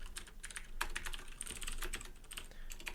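Rapid, steady typing on a computer keyboard, close and clear with irregular clusters of key clicks over three seconds, no talking.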